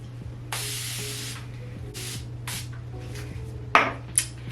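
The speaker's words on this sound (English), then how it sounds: "now I'm just gonna do one all over spray." Hairspray misted over freshly curled hair in a long steady hiss, then several shorter bursts, ending with a sharp spurt and a faint clink over a low background hum.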